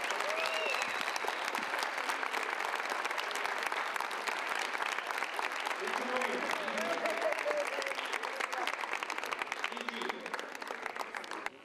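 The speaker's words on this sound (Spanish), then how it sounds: "un aplauso para Raúl" A theatre audience applauds for a performer, dense sustained clapping with crowd murmur and a voice heard partway, tapering off near the end.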